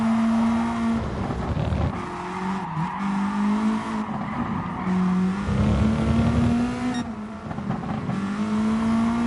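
A Ford Mustang race car in the video game GT Sport roars past with a loud, droning engine note that rises and dips through gear shifts, with tire squeal and skidding mixed in throughout.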